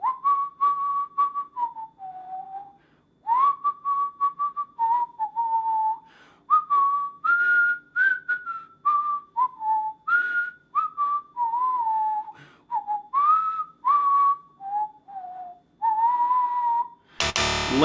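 A person whistles the melody of a song, clear and close, in long sustained phrases with short breaths between them, with no talking; a brief loud burst cuts in at the very end.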